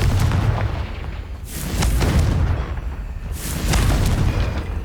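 Deep, booming blasts from the Confringo spell in Hogwarts Legacy go off in about three heavy, rumbling waves, loud and close, each with a crackling burst on top.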